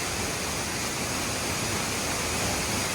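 Curug Putri waterfall at the foot of Mount Ciremai pours heavily during rain and roars loud and close. It makes a steady, unbroken wash of rushing water with no pauses.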